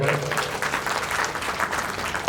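Audience applause at a memorial tribute gathering for a revered religious teacher, steady dense clapping from a crowd lasting throughout, fairly loud and close.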